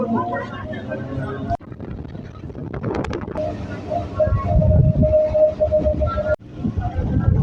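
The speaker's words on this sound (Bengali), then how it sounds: "আর বলতে বলতে আমাদের ট্রেনও ছেড়ে দিয়েছে গড়িয়া স্টেশন থেকে" A train pulling out of Garia station on the Sealdah–Diamond Harbour line, with a steady rumble of wheels and carriages, wind buffeting the microphone and a brief horn-like tone.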